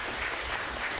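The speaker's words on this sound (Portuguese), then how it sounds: "Palmas para a irmã Cláudia." Short burst of dense clapping from a church audience welcoming Sister Cláudia, loud and continuous throughout.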